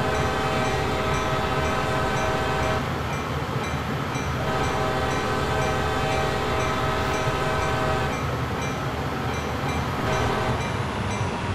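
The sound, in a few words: CSX freight train horn at whistle post, video game Train Sim World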